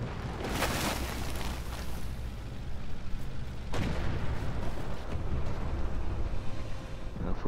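Tank gun on a wheeled Rosomak-chassis vehicle in Armored Warfare fires heavy booming shots, with a sharp blast near the start and another midway, each followed by rumbling reverberation over a loud, steady engine bed.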